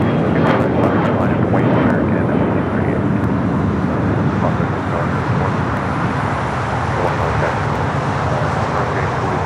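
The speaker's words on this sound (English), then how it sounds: "we got that Delta A330neo up next for arrival" A Delta Airbus A330neo arriving at LAX from JFK roars loudly and close by, a dense, sustained jet rumble with wind buffeting the microphone and faint background voices.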